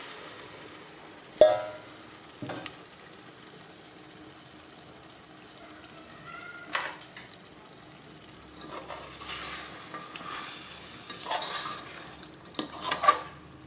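A spoon scrapes and stirs chicken biryani masala in a pot, with a few clanks against the metal and a soft simmering bubble underneath, close by and without talk.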